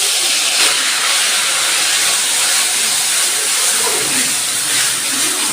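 Pointed gourd (potol) filling, ground on a grinding stone, hits hot mustard oil in a wok and sizzles as a loud, steady, broad hiss that holds unbroken throughout, with no talking.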